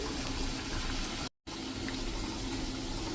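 Boondi batter sizzles steadily in hot oil, a dense, continuous hiss close by, broken by a brief cut to silence before the frying resumes.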